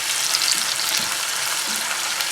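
Ground green chilli paste fries with ginger garlic paste in a hot pan while it is stirred, giving a dense, steady, close-up sizzle with faint scraping underneath and no voices.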